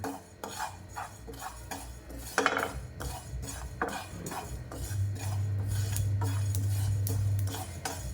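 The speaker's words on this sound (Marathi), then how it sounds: "तीळ पण छान भाजून घ्यायचे आहेत।" Sesame seeds dry-roast in a pan, a quiet clatter of spoon scrapes and metallic clinks with rough rasping stirs, close and faint, with no one speaking.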